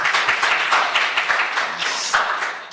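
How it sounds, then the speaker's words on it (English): Steady applause from an audience at a city council committee meeting on homelessness and poverty, filling the room evenly for a few seconds with no talk above it. "Let's give him a big round of applause again."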